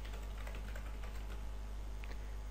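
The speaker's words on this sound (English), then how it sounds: "Type in the username" Keystrokes on a computer keyboard tapping out a username, a steady run of quiet clicks over a constant low hum, close and faint, no voices.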